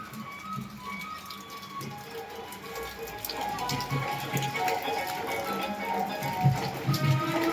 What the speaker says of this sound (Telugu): ఇదండి మరి వాన ఇంకా పడుతూనే ఉంది తగ్గలేదు